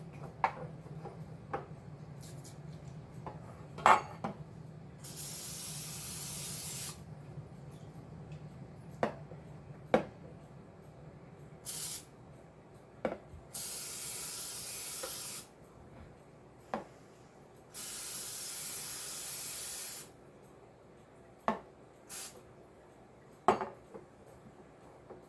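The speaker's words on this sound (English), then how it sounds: "you always want to make sure you spray it down so they don't stick" Cooking oil spray hisses onto a muffin pan in several long bursts, interspersed with sharp metallic clinks and taps of the pan and can in a quiet kitchen.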